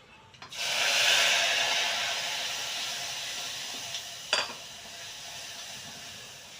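Cumin, mustard seeds, fenugreek and curry leaves hit hot oil for a Rajasthani dal tempering, bursting into a loud, close hiss that slowly eases, with a sharp crackle near the end.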